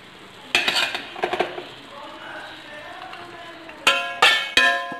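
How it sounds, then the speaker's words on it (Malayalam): Cooked rice scooped with a metal spoon into hot biryani masala in a pot for a Malabar chicken biryani, with sharp clinks and scrapes against the pot in short bursts separated by a quieter stretch. "അപ്പം മസാല ഒന്ന് ചൂടായി വരുമ്പോൾ നമുക്ക് ചോറ് ഇതിലേക്ക് കോരിയിട്ടിട്ട് ദമ്മിട്ടെടുക്കാം"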